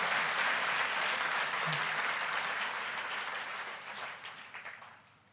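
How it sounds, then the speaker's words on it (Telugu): An audience bursts into dense, loud applause at once, holding steady for several seconds before thinning and fading out near the end. "కొడితే అట్లా ఉండాలి, చప్పట్లు కొడితే."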